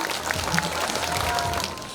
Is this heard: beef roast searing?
no